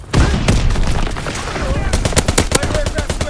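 Rapid gunfire from a Call of Duty WWII multiplayer match, loud bursts of automatic fire and shots crackling in quick succession throughout, with explosions and faint game noise beneath.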